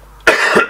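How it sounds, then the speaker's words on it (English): A man coughs once, close up, a sharp burst followed by a rough, rasping exhale lasting about half a second, with no talk around it. "Me coughing."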